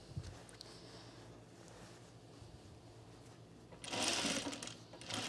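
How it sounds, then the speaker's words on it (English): A sewing machine stitches ruffles down along a shirt seam, a quiet steady whir that swells into a louder burst of fast stitching near the end. "We're going to sew these little ruffles down."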